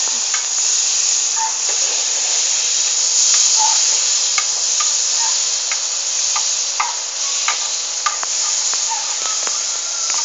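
Margarine melts and sizzles in a pan, a steady bright close hiss with small pops and ticks scattered throughout, no voices.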